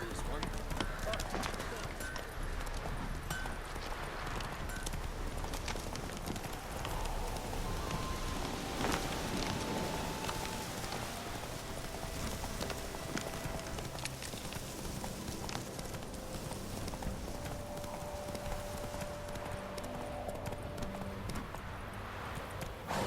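Galloping hooves of Geralt's horse Roach in The Witcher 3, a fast rhythmic clip-clop running without pause under steady rain and other game sounds, with talk over the top.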